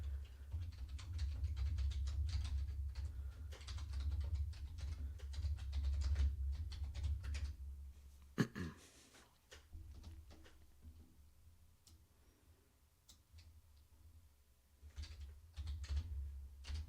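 Computer keyboard typing during setup of a privileged access workstation, a steady run of soft, close key taps with brief pauses, one sharper knock midway, then scattered lighter keystrokes toward the end, no one talking.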